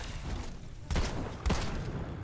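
Two sharp video game gunshots about half a second apart, thudding over a continuous noisy background.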